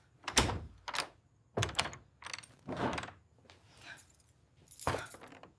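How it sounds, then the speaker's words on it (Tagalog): Someone rattles and bangs on a locked door that won't open, a series of loud irregular thumps and clattering jolts in quick succession, close and forceful with short pauses between. "Ayaw bumukas! Nakakandado yung pinto!"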